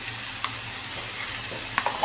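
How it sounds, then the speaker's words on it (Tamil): Potato masala with turmeric is stirred in a hot pan, with a steady soft sizzle of frying and a few faint scraping taps from the spoon against the pan, with no talking. "போட்டுட்டு நல்லா கிளறி விட்டுக்கணும்."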